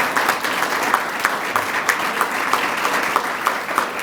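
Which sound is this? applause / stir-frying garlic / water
applause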